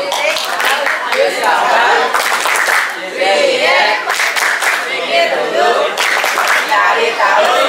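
A group of children claps rhythmically in unison while chanting together, with loud repeated clap patterns broken by a short pause, and voices running over the clapping throughout.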